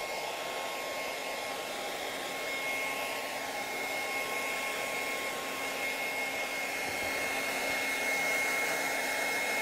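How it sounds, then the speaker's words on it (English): A hair dryer on its hottest setting blows continuously at a steady, high-pitched whir, drying paint to make it crackle, close and unchanging throughout. "we'll just try the hairdryer to dry this and you'll see some nice crackles happening"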